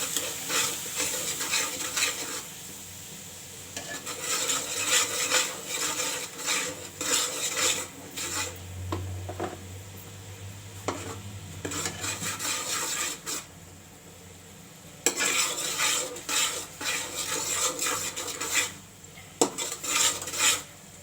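A spoon stirs and scrapes fish masala with turmeric as it roasts in a pan, repeated metallic scraping and clinking over a soft sizzle, with brief pauses and no talking.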